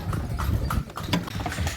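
Hooves of a horse pulling a carriage clip-clop steadily on a road in Mysore, close and loud with a constant rolling background.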